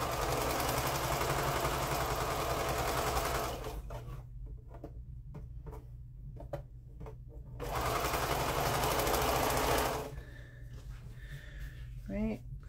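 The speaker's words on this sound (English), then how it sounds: "And sew those together." A sewing machine stitching wedge-shaped quilt pieces whirs in two sustained runs, near and loud, with a quiet gap between them and brief speech near the end.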